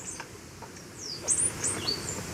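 A recorded call of a mountain tanager plays softly, a few short high chirps and thin whistled notes scattered over about two seconds against a faint hiss, with no talk.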